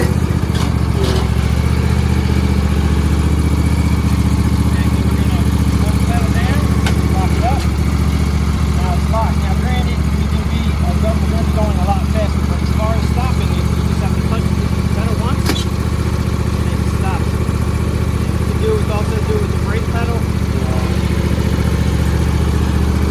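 A John Deere D140 lawn tractor engine runs as the machine backs up, giving a loud, steady, close mechanical drone that holds throughout with little change in pitch.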